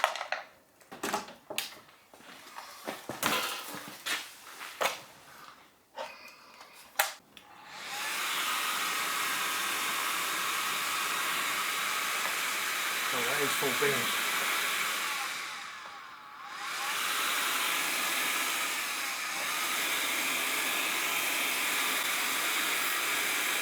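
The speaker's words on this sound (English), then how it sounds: "it all depends if the tiny little blower here has got enough puff" A tiny blower pushes air into a small homemade blacksmith forge, starting after some clattering and handling noises and then running as a steady loud rushing hiss that dips briefly partway through, with a short spoken remark early on.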